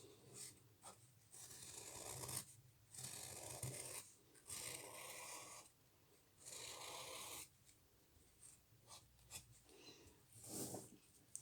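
A black marker pen traces onto felt fabric in repeated scratchy strokes, close and fairly quiet, with short pauses between bursts of drawing.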